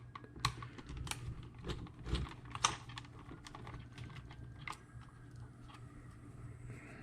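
Small screws being removed from the gearbox of an SG1203 drift RC tank, heard as a quiet scatter of light ticks and clicks with a few sharper taps, close and faint, with no talking.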